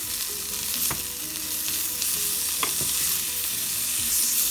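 Potatoes and onions frying in butter hiss with a steady sizzle while a utensil scrapes and stirs them, leaving a few sharp clicks against the pan; the sound is close and continuous, and no one speaks.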